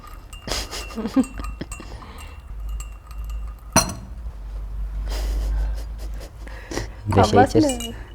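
Glasses of tea clink together in a toast, a couple of bright chinks near the end following sparse clinks earlier, with people talking around them.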